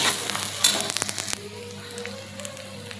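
Egg bhurji sizzling in hot oil in a pan, a bright close crackle with a few sharp spatula taps early on, then a softer steady fry.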